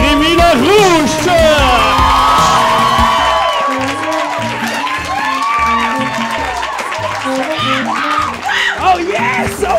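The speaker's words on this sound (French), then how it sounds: "On regarde ces applaudissements-là, mesdames et messieurs, continuez-moi ça" Live audience at a podcast taping in a venue, cheering, whooping and clapping for the host, loud and sustained, mixed with someone shouting excitedly over the crowd.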